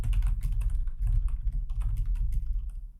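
Code is typed on a computer keyboard in a quick, irregular run of close, clattering keystrokes that lasts about three seconds, with no talking.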